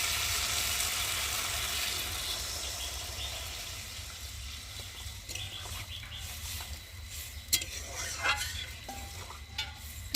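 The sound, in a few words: stirring fish curry with peas in a pan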